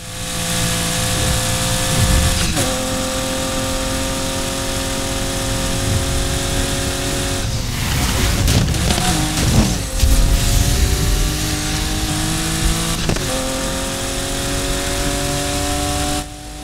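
Car engine in Need for Speed Heat, racing on track tires during drift attempts, drones and revs steadily throughout, with gear-shift pitch drops and a rougher stretch of tire and engine noise in the middle.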